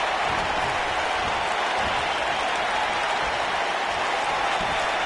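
Steady, dense applause from a large crowd at a sold-out WWE wrestling arena fills the space evenly, a continuous wash of clapping with no pauses.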